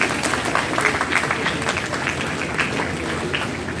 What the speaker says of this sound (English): Can everyone please give a round of applause for our chief guest?